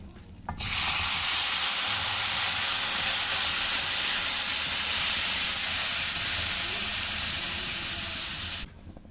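Hot sugar syrup poured into roasted granular semolina for danedar suji halwa, a loud steady hiss that starts abruptly, holds for about eight seconds and fades slightly before cutting off.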